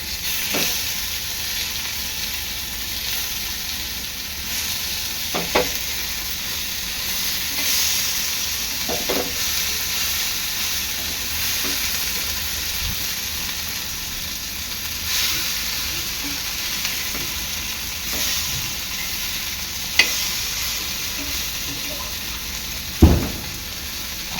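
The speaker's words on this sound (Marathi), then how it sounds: "आपल्या कोलब्या आहेत ना दोन्ही साईडने चांगल्या खरपूस तळून घेणार आहे" Prawns fry crisp in hot oil in a pan, turned to brown both sides. A steady, even sizzle and hiss runs throughout, with a few faint clicks and one sharper tap near the end. No one speaks.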